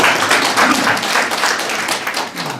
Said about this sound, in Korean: 이럴 때 박수 한번 주셔야 돼요.